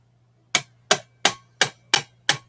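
Six sharp wooden taps from two pencils struck together in a steady, even rhythm, close by and crisp, with a faint low hum underneath and no talking.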